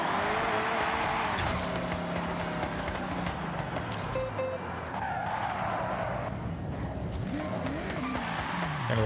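A drift-built car slides with a loud, sustained tire squeal and a revving engine, the screech rising and falling across several seconds as the car stays loose, close and continuous with little pause.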